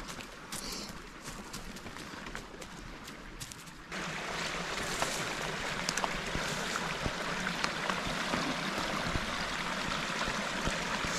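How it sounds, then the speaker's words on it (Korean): Water in a stream in a dry mountain valley trickles and rushes steadily nearby, the flow growing fuller and louder partway through and then holding as a constant close wash with no talk. "계곡은 물이 제법 졸졸졸졸 흐릅니다."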